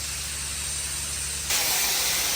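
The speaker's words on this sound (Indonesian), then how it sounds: "agak bising karena memang itu suara pasir ketemu dengan baja. Tuh, blasting namanya." Sandblasting against a steel ship hull in a dry dock, a loud continuous broadband hiss that swells suddenly louder partway through, with no voices.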